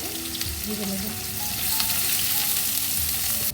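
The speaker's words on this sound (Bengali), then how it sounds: "আমার পেঁয়াজ ভাজাগুলো হয়ে গেল এখন পেঁয়াজ ভাজাগুলো উঠিয়ে নেব" Onions fry in hot oil with a steady, close sizzle and crackle, a few light stirring scrapes over it.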